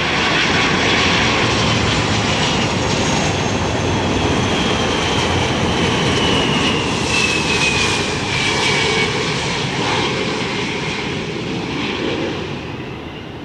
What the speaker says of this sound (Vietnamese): mời mọi người chiêm ngưỡng pha hạ cánh của nữ hoàng bầu trời Boeing 747 xuống sân bay Tân Sơn Nhất